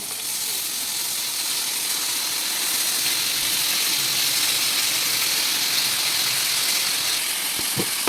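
Tomatoes go into a pan of frying fenugreek leaves, giving a steady close sizzle and hiss that runs the whole time, with a couple of faint clicks near the end.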